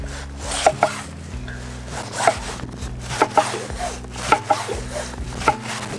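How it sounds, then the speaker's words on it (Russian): A knife chops boiled goat meat for Kazakh beshbarmak on a board, with sharp, irregular strikes, some in quick pairs, over a low steady background hum. "Нужно все красиво нарезать. Начнем с козы."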